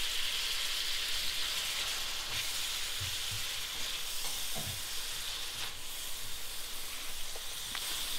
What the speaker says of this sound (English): Mixing those around nicely, making sure that those sauces are covering every last bit of it.